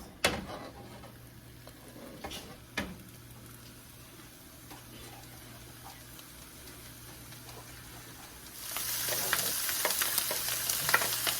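Onions and peppers cooking in a dry pan with no oil or butter for a breakfast casserole, giving a faint, steady sizzle with a few sharp clinks early on and a louder, brighter hiss building near the end.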